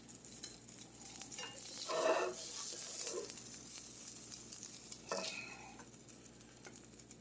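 Homemade chicken balls of fresh ground chicken and vegetables cook in a cast iron skillet, giving a steady soft sizzle with brief stirring and utensil scrapes around the middle and again near the end.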